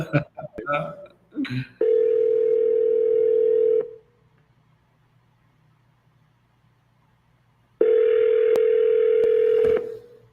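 A telephone dial tone sounds in two steady, loud, unbroken stretches during a cold call, separated by near silence, after brief talking at the start.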